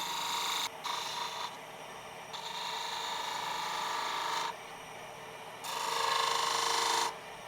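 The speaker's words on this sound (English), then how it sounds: "I like to turn the hat band on the hat, so I use the spindle gouge to achieve that" Spindle gouge cutting the hat band of a small wooden snowman ornament on a lathe, a steady rasping scrape that stops and starts in several sustained passes, close and moderately loud with no talking.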